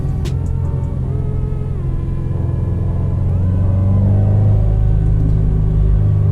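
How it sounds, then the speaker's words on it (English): Turbocharged engine of a 2019 Subaru WRX STI with a resonator delete drones loudly and steadily from inside the cabin, its low rumble rising and falling with throttle and a faint whine riding above, no voices. "I do have a resonator delete, so the turbo, you can hear it a lot more."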